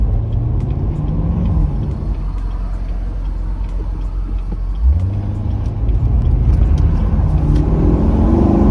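A Chevrolet C7 Corvette cruises on the road with a low, muted engine rumble under steady road and tire noise, the engine note rising partway through as it accelerates; no voices are heard.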